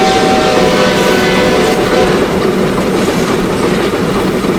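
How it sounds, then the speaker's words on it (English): Steam locomotive in the Century of Steam railroad game worked hard at wide-open throttle, a loud, continuous rumbling roar with rail clatter and a faint high whistle-like tone, steady throughout with no talk. "We are not being gentle to the locomotive at this moment"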